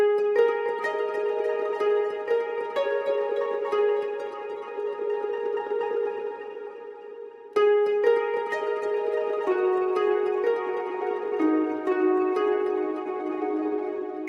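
A sustained orchestral counter melody from a free plugin preset, held string-like tones gliding between notes across two continuous phrases with a brief break midway, no voices.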